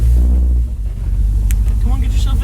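An LS-powered 1955 Chevy truck rumbles with a deep, loud engine idle up close as it sets off on a test drive, with wind buffeting and people talking over it.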